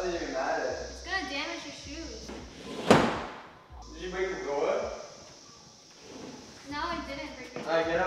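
A door slammed shut once, a sharp loud bang in the middle, amid heated talk between people in a home.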